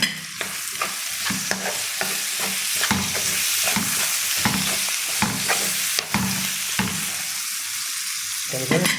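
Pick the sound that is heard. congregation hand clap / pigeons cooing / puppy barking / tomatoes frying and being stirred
tomatoes frying and being stirred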